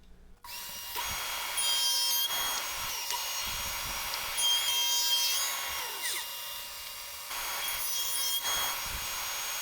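A board of rustic pallet wood is machined, with a quarter inch taken off it. The loud rough cutting passes come in several bursts with short pauses between them, and the motor whines under each cut. No one talks.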